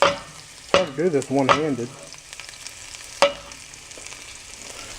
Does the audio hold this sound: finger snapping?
no